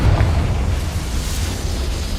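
Confringo fire spell exploding in the Hogwarts Legacy video game, a loud, rumbling blast with deep booming low end that fills the whole stretch, with no talking.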